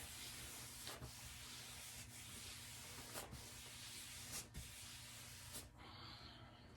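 Cheesecloth pressed hard and rubbed back and forth over a wood sample to work in finish, making soft close scrubbing hiss with periodic stroke accents, faint and steady, ending in a quieter pause.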